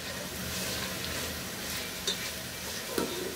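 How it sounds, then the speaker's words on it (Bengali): Onions frying in ghee with cumin and garam masala, a steady soft hiss of sizzling with a couple of faint clicks of the spoon, close and quiet, with no talking. "প্রায় মিনিট খানেক আমি এটাকে একটু ভেজে নিব।"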